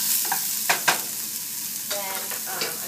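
Shrimp frying with garlic in a hot pan, a steady close sizzle with a few sharp clatters as the shrimp go in and get stirred around.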